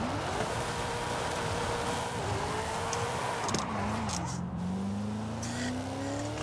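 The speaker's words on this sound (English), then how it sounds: "Even when sideways, she's still pretty fast. So we're just having fun with this Crown Vic now." A Ford Crown Victoria, a 13-year-old car, slides sideways with a steady engine drone and a rising tire squeal. The noise is loud and continuous throughout.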